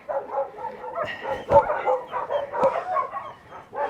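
A dog makes short yips and soft bow-wow sounds, with a couple of sharp louder bursts over a steady, busy background in an outdoor yard setting.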